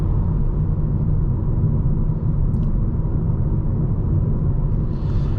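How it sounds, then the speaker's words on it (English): Steady low road rumble from tires inside a 2025 Kia K5 GT-Line on the move, with faint swells from oncoming traffic passing by, continuous and fairly loud with no talking. "You get a little bit of tire noise, a little bit of noise from the oncoming traffic,"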